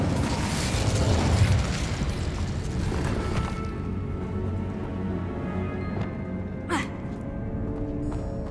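A Bombarda blast spell in Hogwarts Legacy erupts in a loud booming burst at the start, rumbling and settling over several seconds, with a brief sharp crack later and a low steady background hum.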